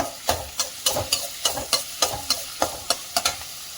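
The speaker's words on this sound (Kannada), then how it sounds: "ಈರುಳ್ಳಿಯನ್ನು ಕೆಂಪಾಗೋವರೆಗೆ ಬಾಡಿಸ್ಕೋಬೇಕು." Onions for pongal fry in a pan, a soft sizzle under quick, regular scraping strokes of a spoon, about a dozen close, crisp stirs in steady rhythm.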